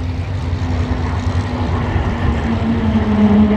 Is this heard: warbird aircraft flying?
yes